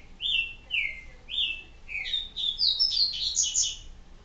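Birds in the video game Resident Evil 4 give a series of clear, high chirps and whistled notes, repeated in a quick, rising sequence over a quiet background.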